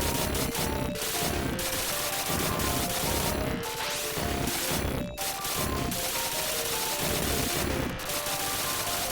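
Rapid arcade gunfire from the UN Squadron fighter-jet shooter, a dense, continuous rattle of shots and explosions layered over loud game music, with no voices.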